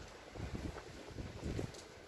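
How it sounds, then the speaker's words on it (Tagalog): Strong wind buffets a terrace, gusting rumbles that swell and fade twice over about two seconds, loud and close against the microphone. "Kalakas ng hangin."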